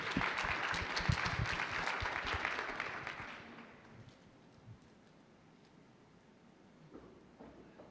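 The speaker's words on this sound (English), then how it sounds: "A round of applause for Neji." Audience applause at a venture competition as a startup presenter is introduced; a crowd clapping fairly near for about three seconds, then fading into quiet hall ambience with a few scattered sounds.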